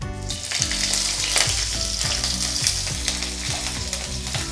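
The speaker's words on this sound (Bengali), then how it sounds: "রসুনটা আর কাঁচা লঙ্কাটা আমি ভালো করে একটু ভেজে নেব।" Crushed garlic cloves and slit green chillies sizzle hard in hot oil in a pan, a loud, steady, close crackle with a low tonal hum running beneath, no voices.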